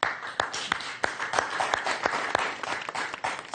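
A French TV game show studio audience applauds steadily, many hands clapping at close range in a brief, even burst.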